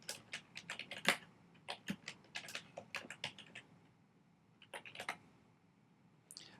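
Quick bursts of keystrokes on a computer keyboard as a podcast title is typed in, the clicks coming in irregular clusters with short pauses, fairly close and quiet, with no talking.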